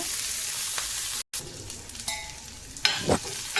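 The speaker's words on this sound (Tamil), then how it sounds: "இப்போ நம்ம நல்லா பொன்னிறம் ஆகிற வரை வதக்கிக்கலாம்" Onions sautéing in oil for a carrot poriyal, a close, steady sizzle with a couple of spatula stirs and scrapes, broken by a brief cut to silence partway through.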